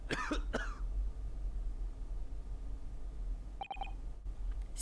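A character coughing in The Great Ace Attorney video game, two short close coughs at the start, then a pair of electronic beeps against a quiet steady hum.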